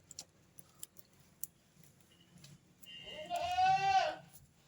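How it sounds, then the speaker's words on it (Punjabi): A single goat bleats clearly and fairly close, a wavering cry after a few faint clicks and taps in a quiet setting. "ਇਹਦਾ ਸਾਡੀਆਂ ਬੱਕਰੀਆਂ ਵੀ ਰਿੰਗੀ ਜਾਂਦੀਆਂ"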